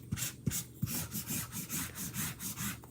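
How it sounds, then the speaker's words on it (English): A paste scraper rubs a chalk transfer flat in short, repeated scraping strokes, close and fairly quiet, with no voice present. "this paste scraper is a great accessory to make sure everything is down really well"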